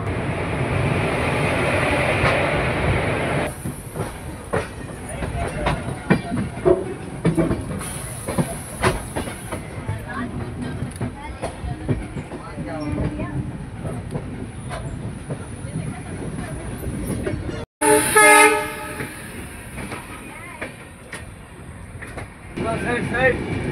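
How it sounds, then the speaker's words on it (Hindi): The Kota Patna Express 13240 pulls out of Lucknow with a steady rumble and rhythmic clickety-clack of wheels on rail joints, a hiss and a brief sharp burst near the end, while people talk nearby. "ट्रेन जो है डिपार्चर होती हुई लखनऊ से"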